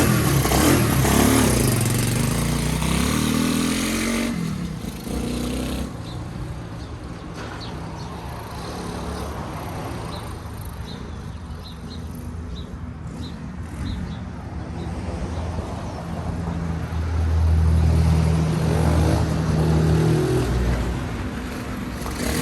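Homemade motorcycle built from spare parts with a Lifan engine, ridden around a parking lot; a loud, steady engine drone runs the whole time, rising in revs at the start and again near the end.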